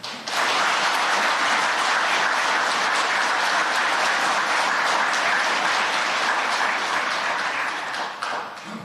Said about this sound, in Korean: 다시 한번 뜨거운 위로와 격려의 박수를 부탁드립니다.